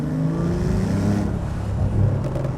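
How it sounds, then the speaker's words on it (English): Sporty exhaust drone from inside a moving Porsche 911 Carrera T, a deep throaty rumble that swells briefly as the engine pulls. "I'm getting a lot more noise in this car from the exhaust"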